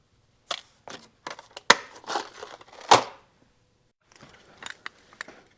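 Rivets for Suzuki TS125 motorcycle clutch dampers are cut shorter, producing a scattered series of sharp, close clicks and snips with short gaps of quiet between them.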